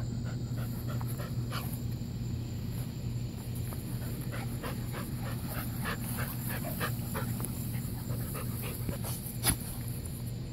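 A Labrador puppy pants steadily and rapidly close by, with a low constant hum in the background and an occasional faint click.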